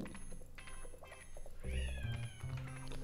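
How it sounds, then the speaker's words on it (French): A house cat lets out a loud, drawn-out meow close behind the listener, rising then wavering over a low background hum, followed by a second shorter yowl. "j'ai entendu mon chat gueuler comme un gros Jackie juste derrière moi"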